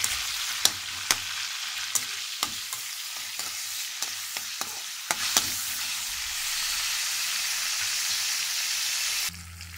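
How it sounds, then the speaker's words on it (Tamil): Tomatoes sauté in hot oil for a chicken boneless gravy, with a steady sizzle and repeated sharp scrapes and taps of a spoon against the pan. "தக்காளி நல்லா வதங்கணும்."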